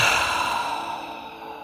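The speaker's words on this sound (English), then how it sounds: "and then breathing out." One slow, deep exhale during a guided wellness meditation, a close and soft airy breath that fades gradually toward the end.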